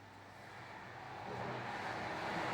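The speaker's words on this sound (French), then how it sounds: "ce que vous entendez, c'est les voitures qui passent sur la route" A car hums along a road in the distance, its steady rush swelling slightly louder as it approaches, with no voices.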